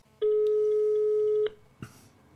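A single long, steady ringback tone plays from an unanswered telephone call on speaker, then cuts off into quiet with a brief knock afterward.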